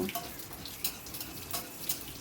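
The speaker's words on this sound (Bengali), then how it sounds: "একটু ভাজা ভাজা মতো করে নেব" Garlic and nigella seeds fry in hot oil with a steady close sizzle, broken by a few brief stirring scrapes, with no voices.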